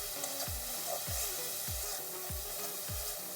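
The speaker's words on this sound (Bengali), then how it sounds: "দিয়ে দিচ্ছি 1/2 চামচ হলুদ গুঁড়ো, দিয়ে ভালো করে একটু ভেজে নেব।" Turmeric powder fries with softening tomatoes in a pan for a village-style taro leaf mash. A steady close sizzle runs throughout, with a low thump recurring about every half second, and no talk.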